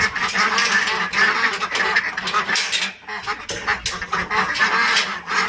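A flock of laying ducks quacking continuously and loudly at close range on a farm, their calls overlapping densely throughout with no pause.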